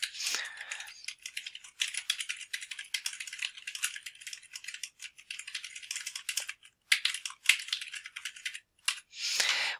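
Someone types steadily on a computer keyboard up close, a dense run of quick clicking keystrokes broken by short pauses, with no voices.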